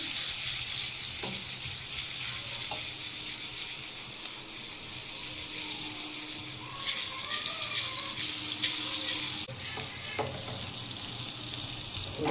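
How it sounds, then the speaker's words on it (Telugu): Steady oil sizzle and crackle of curry leaves tempering in a pan, a continuous bright hiss with a few light clinks, no voices. "కరివేపాకు వేసి పోపు బాగా వేగనివ్వాలి"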